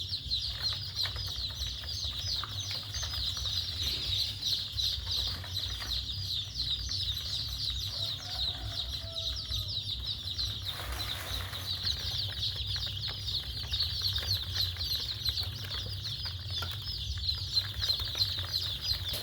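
A dense flock of native Pradu Hang Dam chicks peeps and cheeps without pause while being packed into boxes, a steady high chorus with low rustling and handling noise beneath and no voices.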